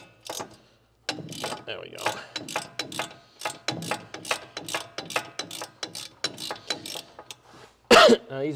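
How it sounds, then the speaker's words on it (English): A half-inch drive ratchet turns a rear suspension bolt on a Jeep Cherokee, a close, steady run of sharp clicking pawl strokes in quick repeated bursts, with a brief cough-like noise near the end. "we can switch over to our half inch drive ratchet here"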